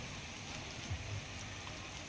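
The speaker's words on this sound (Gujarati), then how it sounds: "આ ધોધમાર વરસાદી માહોલ હાલમાં સર્જાઈ રહ્યો છે" Heavy rain pours over the town streets of Botad, a soft, steady wash of falling water heard at a distance, with no talking.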